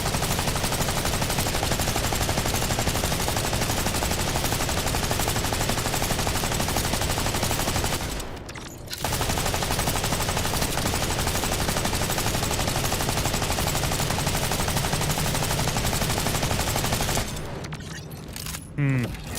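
Gunfire in the video game Borderlands 4: dense, sustained rapid automatic shooting, loud and continuous, broken by two short pauses.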